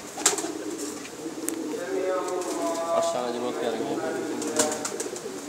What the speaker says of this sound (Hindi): मुजफ्फर भाई आए जी लाल खतंग कबूतर लैके।